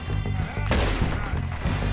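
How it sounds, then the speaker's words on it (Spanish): A single loud rifle shot cracks out midway through a rapid burst of gunfire in Red Dead Redemption 2, with a low pulsing engine-like rumble underneath. "Esta es un arma que se tiene que recargar tras cada disparo"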